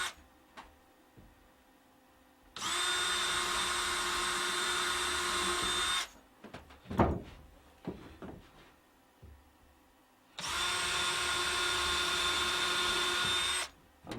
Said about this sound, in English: I'm just putting some temporary screws in